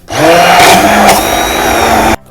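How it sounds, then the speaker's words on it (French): A blender mixing mushroom purée with a splash of water runs loud and close with a high whirring motor, its pitch wavering as it churns, then cuts off abruptly near the end. "vous mettez un fond d'eau et vous continuez à mixer"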